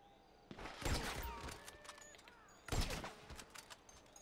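Gunfire in Grand Theft Auto V on PS4: two sharp bursts of rapid shots about two seconds apart, each trailing off into scattered echoes, loud and clear with no talking.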